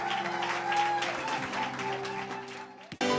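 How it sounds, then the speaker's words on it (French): A wedding crowd claps steadily for a few seconds with some voices mixed in, ending in a sudden sharp burst of noise. "est-ce qu'on peut les applaudir?"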